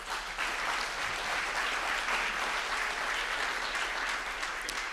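A conference audience gives sustained, even applause for the panelists at a plenary session, a steady dense wash of clapping throughout with no voices.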